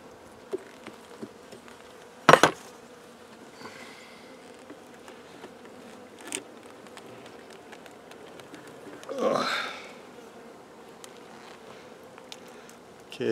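Honey bees rob honey from a destroyed colony late in the season, filling the air with a steady, dense buzz. Single bees swell louder as they pass close, and a few sharp knocks and rustles break through.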